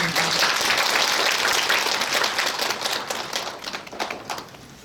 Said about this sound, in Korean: 법사님께 큰 박수 부탁드리겠습니다